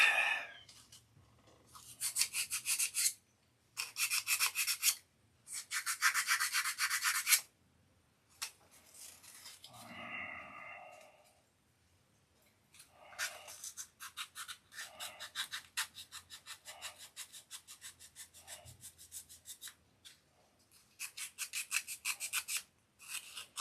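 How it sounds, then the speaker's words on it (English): Sandpaper rubs rust off a metal horn in repeated bursts of rasping strokes, some short and some longer, with pauses between them and a brief squeak partway through. "it even rusted the horn up. So we gotta sand that out."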